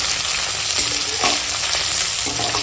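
Fish fillets frying in hot oil in a pan after being turned, giving a steady, loud, close sizzle with a few soft scraping touches of a spatula and no voices.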